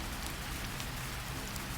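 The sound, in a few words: rain falling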